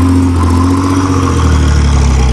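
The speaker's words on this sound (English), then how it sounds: "shift some gears, give some high revs" Pontiac Fiero V6 engine running loud and close, a steady mid-low engine drone with rising and falling revs throughout.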